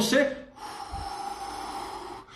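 A person holds a breath and then lets it out: a sharp gasping intake at the start, then a steady, breathy exhale that trails on close to the microphone.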